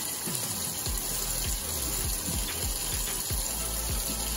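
Hot water runs steadily from a tap in a dorm kitchen, a continuous close rush with repeated gurgling splashes and a few light knocks over it, and no talking.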